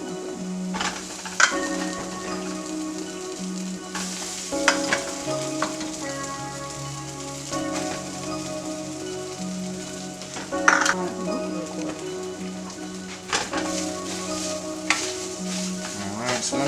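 Cooked rice and vegetables sizzle steadily in hot oil in a pan for vegetable fried rice, a continuous frying hiss broken by intermittent scraping and clinks of a utensil against the cookware, with no one talking.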